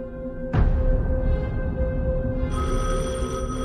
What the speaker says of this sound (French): Le téléphone sonne au premier étage.